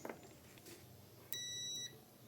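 A multimeter in continuity mode gives a single steady electronic beep for about half a second, clear and close, after a few faint clicks, while testing a faulty Brastemp washing machine control board.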